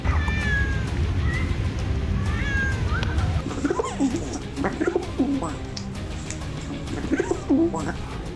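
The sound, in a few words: cats meowing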